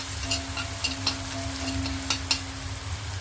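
Bread patty filling sautéing in a pan over low gas, a quiet steady sizzle with a few soft scraping stirs and a low hum beneath.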